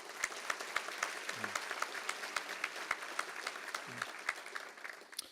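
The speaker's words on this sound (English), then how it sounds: "please have a round of applause for all the candidates" A small group claps for several seconds, individual sharp claps clearly distinguishable in a loose, uneven rhythm, fairly close and moderately quiet, tapering at the end.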